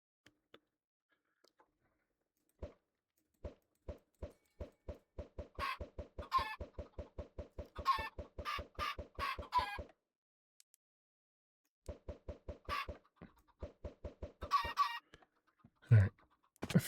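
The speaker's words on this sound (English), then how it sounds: "few chickens in there" Blocky Minecraft chickens in a Stoneblock 4 world cluck in a steady run of short, rhythmic clucks, pausing briefly and then resuming, with a faint higher squawk near the end.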